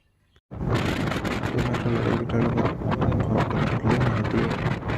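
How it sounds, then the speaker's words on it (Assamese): Strong cold wind roars continuously across the microphone in open fields after a quiet start, a loud broadband rush with gusty fluctuations and no voices. "কাৰণ ঠাণ্ডা বতাহ মাৰি আছে"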